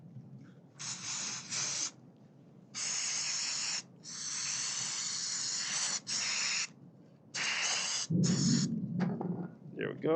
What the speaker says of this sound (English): Let me just spray a little bit.